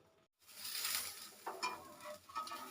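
A poha (attukula) omelette frying in oil in a pan gives a soft, steady sizzle, with a few light scrapes and stirring taps, quiet and close.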